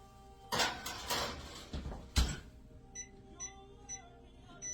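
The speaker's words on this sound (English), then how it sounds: "Now they're going to go in the oven." Tray of chocolate chip cookies slid into a home oven, a few sharp metallic clanks and scrapes of the baking sheet and rack, followed by quieter ticks and light rattles.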